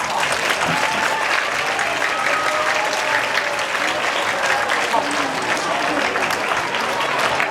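A theatre audience at an Italian amateur stage show gives sustained, dense applause, a steady loud wash of many hands clapping for the whole stretch without pause or talk.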